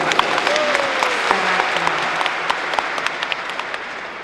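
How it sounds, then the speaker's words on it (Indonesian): Audience applause at a 50th wedding anniversary thanksgiving mass, a steady wash of clapping throughout with scattered sharper claps standing out, fairly close and moderately loud. "Kita beri aplaus yang"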